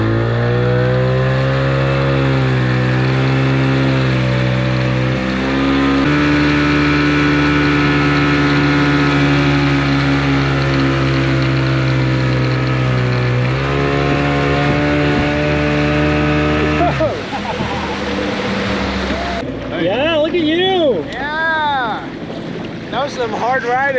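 The engine of a restored 1959 Silverline Swift boat drones loudly and steadily while pulling a tuber, its pitch shifting as it changes speed, with wind buffeting the microphone and voices toward the end.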